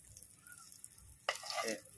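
Kangkong leaves are dropped into hot oil and burst into a loud, bright sizzle that swells and then settles, following a quieter stretch with faint talk in the background.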